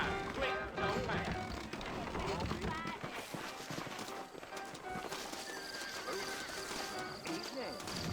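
Saddled horses in Red Dead Redemption whinny and stamp their hooves in a busy, cluttered mix, with voices talking over them throughout.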